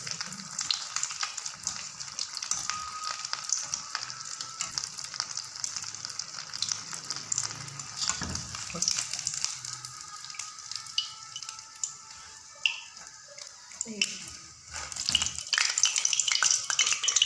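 Macaroni rolls frying in hot oil give a steady, close sizzle and crackle that runs throughout, with a few light clinks and stirring noises partway through.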